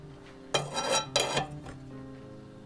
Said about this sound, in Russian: Я просто обожаю этот хрустящий звук булочки.